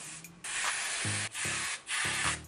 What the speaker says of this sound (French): Je vais prendre mon got2b en spray, tu vois, et je vais juste spray comme ça.